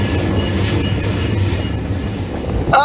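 A long freight train rolls past at Horseshoe Curve, a loud, close, continuous rumble of wheels and cars, with a sharp squeal or horn note rising at the end.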